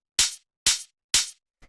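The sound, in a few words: main hi-hat in a minimal house beat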